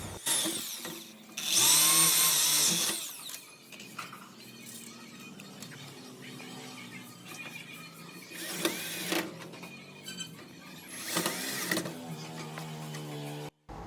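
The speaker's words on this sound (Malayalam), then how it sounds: "നമ്മൾ ഡ്രില്ലിൽ ത്രീ തേർട്ടി ടുവിൻ്റെ ബിറ്റ് ഇട്ടതിന് ശേഷം അതിൽ അരഞ്ച് ചെറിയ സ്ക്രൂ ആട്ടോ ചെയ്തുകൊണ്ടിരിക്കുന്നത്" A power drill with a 3/32 bit drives small screws into an iron window frame while glass is being fitted. It gives several short, loud whirring bursts separated by quieter handling noise and clatter.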